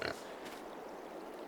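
Pigs in Farming Simulator 22 give a quick, soft grunt at the very start of a brief stretch, followed by a faint, low ambient hum.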